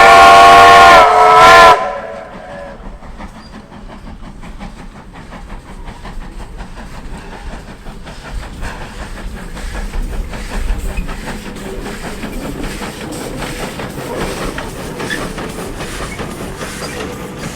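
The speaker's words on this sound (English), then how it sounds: "where we see Y542 charging up the climb out of Keith Park Station" Steam locomotive Y542 climbing hard out of Keith Park Station on the Western Springs Railway, opening with a loud whistle blast, then a rapid rhythmic chuffing exhaust that builds steadily as the engine works uphill.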